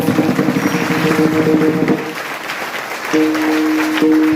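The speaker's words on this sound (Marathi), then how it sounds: "कार्यकर्त्यांसाठी एकदा जोरदार टाळ्या" A crowd of volunteers and listeners claps loudly and steadily at a Marathi kirtan gathering, the applause rising and falling for a few seconds while sustained harmonium-like musical tones run beneath it.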